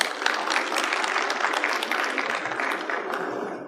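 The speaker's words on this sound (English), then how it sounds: "Give him a round of applause," A conference audience applauds a keynote speaker on post-COVID HR in a dense, sustained wash of many hands clapping that holds steady throughout and tapers slightly at the end.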